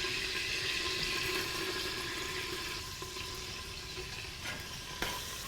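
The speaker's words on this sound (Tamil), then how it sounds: "நல்ல வெங்காயம் பொரிஞ்சு வரணும்." Onions frying in a pan, a steady close sizzle that fades slightly toward the end with a few faint clinks.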